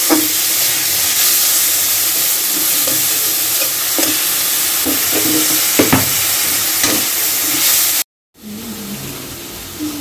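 Tomatoes sizzle with already-fried onions in a hot pan for a vegetable curry, a steady loud hiss broken by scraping stir strokes, then a brief cut to silence before the frying resumes.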